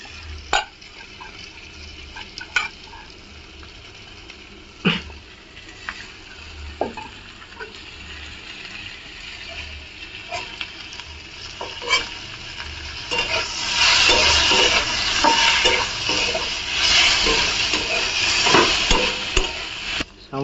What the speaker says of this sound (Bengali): এবার কুচে মাছটাকে দিয়ে এর সঙ্গেই আমরা কষাবো।